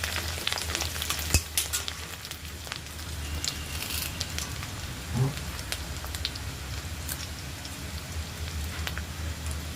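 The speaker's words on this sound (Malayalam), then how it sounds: "ഇഞ്ചി ഒന്ന് മൂക്കട്ടെ." Ginger fries in hot oil for a date and bilimbi pickle, giving a steady, close crackling sizzle with scattered pops and occasional stirring.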